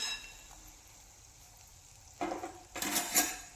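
Shankarpali sweets fry quietly in hot oil with a faint, steady sizzle, then a utensil stirs and scrapes the pan in two louder bursts near the end.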